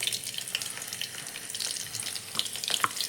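Cinnamon, clove, fennel, cumin, mustard seeds and garlic frying in oil make a close, continuous sizzle dotted with sharp crackles and popping spits throughout.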